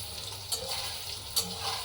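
Food fries in a pan with a soft continuous sizzle and a couple of brief stirring clinks, heard close but fairly quiet, with no talking.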